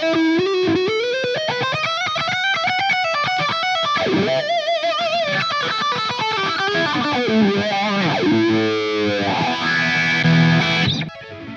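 A 1979 Les Paul played through a wah pedal into a Friedman BE50 Deluxe amp, rendering a distorted lead lick of sustained bends and fast runs, loud and close, with the wah sweep audible, no speech.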